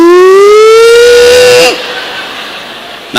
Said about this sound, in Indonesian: sirine nu ngaheong mah imsak